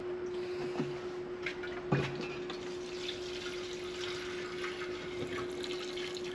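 Old fuel pours out of the tank of a 1971 Arctic Cat drag sled in a steady, close liquid splatter. A constant hum runs underneath, with a couple of brief clunks near the start.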